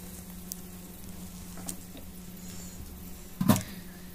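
Bottle gourd pieces frying in hot oil give a soft, steady sizzle throughout, with a brief louder crackling burst near the end and no talking.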